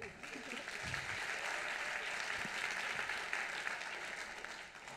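Audience applause at a French award ceremony, a steady dense clapping from a sizeable crowd that holds evenly for about five seconds before easing slightly at the end.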